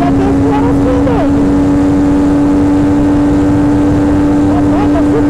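A motorcycle engine with a Power aftermarket exhaust drones loud and close at a steady high rev, with a constant whining tone and wind rush; someone talks over it.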